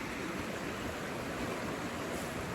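Steady broadband rush of creek water flowing continuously and evenly throughout, with no voices over it.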